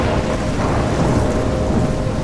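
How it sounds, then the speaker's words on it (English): Thunderstorm with heavy rain in the video game Life is Strange, a dense, loud wash of rain with deep rumbling thunder rolling underneath, continuous and enveloping, no voices. "I'm trapped in a storm?"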